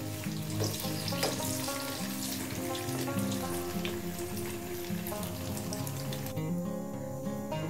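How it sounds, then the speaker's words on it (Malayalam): Sweet banana samosas deep-frying in hot oil, a dense, even bubbling crackle that runs loud and unbroken throughout, with no talking. "ഇനി മറ്റേ ഭാഗവും ഫ്രൈ ചെയ്തിട്ടെടുക്കാം"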